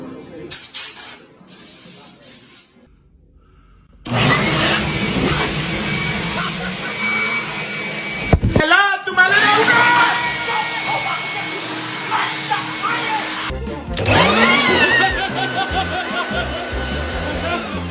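A hairdryer blows in a steady close hiss that cuts in and out a few times, with people talking and laughing over it.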